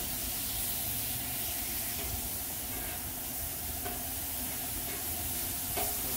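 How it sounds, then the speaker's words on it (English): Thin ribeye steaks sizzle steadily on a hot outdoor griddle, giving a continuous loud frying hiss with occasional brief pops and no talking. "Don't take long for these little thin ribeyes to cook."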